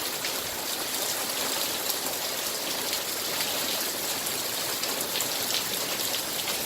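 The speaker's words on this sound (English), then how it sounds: "Pouring down rain here in Louisiana." Heavy rain pouring down in Louisiana, a dense, steady hiss of drops hitting surfaces with no letup, loud and close.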